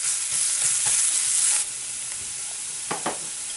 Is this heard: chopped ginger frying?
yes